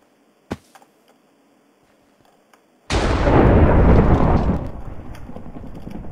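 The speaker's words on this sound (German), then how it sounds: "Beim einen schlägt der Blitz ein." A lightning strike in Minecraft lands as a sudden loud crack of thunder after near silence and a faint earlier click, then rolls on as a broad rumble that slowly fades.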